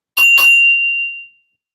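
A bright metallic bell dings twice in quick succession, loud and close, with a clear ringing tone that decays over about a second into silence.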